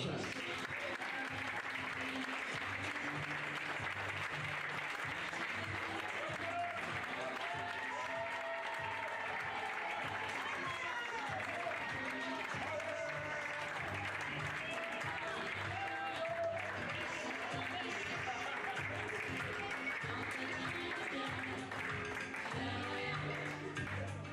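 At an archery championship awards ceremony in France, an audience keeps up sustained, even applause for families and coaches, with a faint public-address voice and music underneath the clapping.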